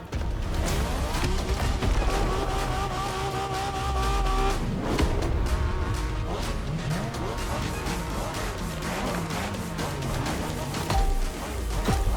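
Car engine driving in the racing video game The Crew Motorfest, a loud sustained motor drone with revving pitch changes and a few sharp impact-like hits, continuous throughout.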